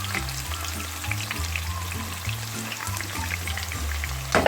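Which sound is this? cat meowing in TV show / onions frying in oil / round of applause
onions frying in oil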